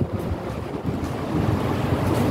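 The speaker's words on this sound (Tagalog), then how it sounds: "yung hangin niya malamig" Cold early-winter wind in Hong Kong blusters across the microphone outdoors, a loud continuous rumbling buffet that swells and eases without any voices.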